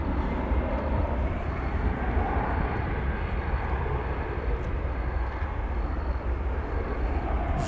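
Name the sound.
airplane taking off at DFW Airport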